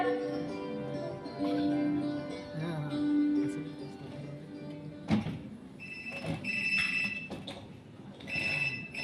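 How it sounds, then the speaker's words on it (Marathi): A telephone rings in repeated tonal bursts, moderately loud indoors, with some clatter and movement sounds in between. "आता कोणाचा फोन?"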